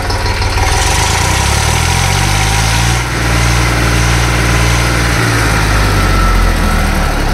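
An Eicher 485 4WD tractor's air-cooled diesel engine idles loudly up close, a steady chug with the pitch shifting slightly as it revs a little, no talking.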